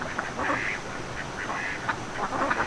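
Ducks quack in a noisy, overlapping chorus close at hand, with repeated nasal calls throughout and no talk.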